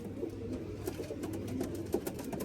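Low, throaty pigeon coos repeat a few times in quick succession, close and fairly soft, over a constant background hum.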